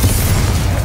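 A Bombarda blasting spell explodes in the video game Hogwarts Legacy, one short, loud, deep boom heard up close with no voices over it.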